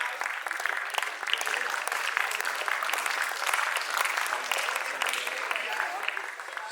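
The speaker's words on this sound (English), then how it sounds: "So put your hands together for the runner-up team." Audience applause for the runner-up team at a regional school quiz final, sustained dense clapping from a large crowd, steady and fairly loud throughout the stretch.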